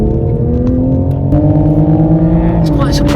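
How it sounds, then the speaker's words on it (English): A Toyota GR Supra driving on the road, its engine droning loud and steady with a slowly rising pitch as it pulls, heard from close up inside or near the car. "Lauren kindly offered to show me how to get the best from the Supra out on the road"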